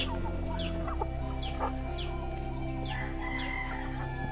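A flock of chickens on a farm clucking continuously, with overlapping short calls and squawks at close range over a steady low hum, no one speaking.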